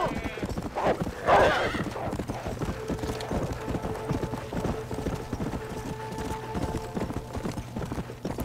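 Rhythmic hoofbeats of a galloping horse in Red Dead Redemption: Undead Nightmare, with a whinny early on, under a steady droning background; game audio.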